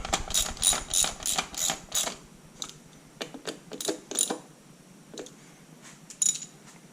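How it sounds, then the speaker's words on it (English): A ratchet snugs the valve cover bolts on a 2002-2006 Mini Cooper R50, giving a quick burst of close, sharp clicks and then a few slower, scattered clicks and a final metallic tap. "Check the tightness with the ratchet."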